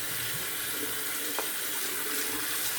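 Running tap water streams steadily into a sink as a shaving bowl is rinsed out, a constant close hiss and splash with faint clinks, no voices.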